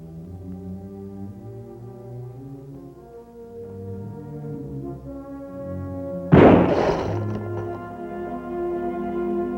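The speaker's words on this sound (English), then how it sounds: "That was a shot." A single sharp gunshot cracks out in an indoor drama scene, loud and sudden over a steady background of orchestral music, with a brief ringing tail.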